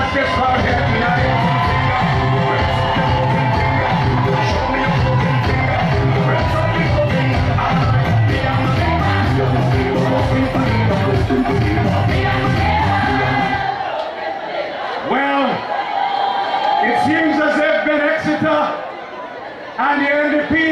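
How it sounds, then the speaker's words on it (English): A massive crowd at a ULP celebration rally in Layou, Central Leeward, roars with dense, sustained whoops, shouts and cheering. The noise stays loud and continuous before thinning into scattered yells near the end. "Never in the history of Central Leeward or Layou have we seen such a massive crowd as this crowd here tonight."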